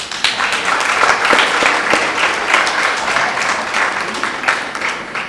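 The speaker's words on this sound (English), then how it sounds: "why are we clapping about something that we all know is that we have done wrong" An audience at a Karachi literature festival book launch applauds, giving a loud, dense burst of clapping from many hands that swells and fades slightly over several seconds.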